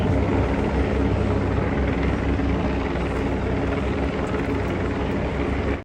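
Steady, loud rotor drone of about four helicopters overhead at Venice Beach, a continuous rumbling chop that fills the whole stretch with no voices.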